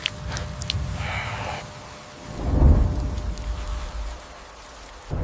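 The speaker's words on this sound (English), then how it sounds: "The rain begins." Rain falling across an open savannah with a low rumble of thunder swelling in the middle, steady patter underneath, no voices.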